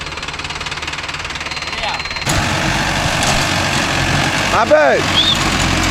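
A Mahindra Arjun Novo 605 DI tractor engine runs steadily among coconut trees, its low rumble growing louder partway through, with brief speech over the top.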